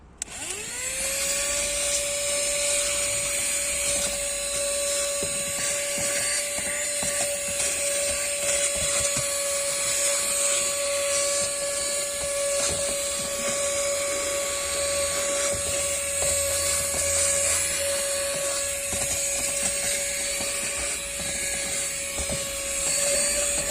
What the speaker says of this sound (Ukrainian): ось у нас є пісок. Пробуємо запилососити.